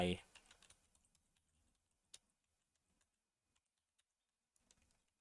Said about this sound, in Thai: พิมพ์อีเมลของคุณเข้าไปแบบนี้